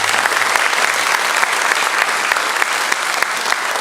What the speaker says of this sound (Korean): 우리 큰 박수를 한번